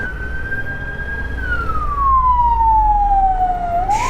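A loud ambulance siren wails steadily, its pitch holding then sliding downward before rising again, with road and engine rumble underneath, heard from a Yamaha R7 motorcycle in traffic.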